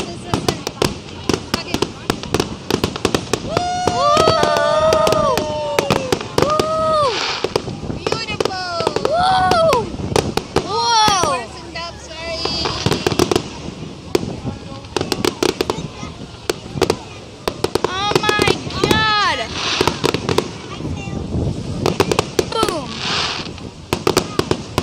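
Fireworks burst repeatedly in an irregular string of sharp cracks and booms, some with whistling rising tails, loud and close, while people cheer and talk excitedly between and over the explosions.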